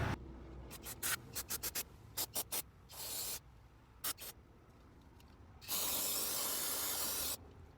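Spray bottle squirting cleaner over a diesel leak on a van: a series of short, sharp hissing bursts, then longer sustained sprays, close and moderately loud, with no talking.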